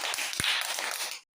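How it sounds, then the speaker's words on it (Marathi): Children in a classroom clapping, a brief burst of many small hands with one sharp tap near the start, loud and close, stopping abruptly after about a second. "शाबास, टाळ्या वाजा."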